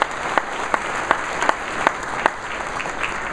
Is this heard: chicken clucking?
no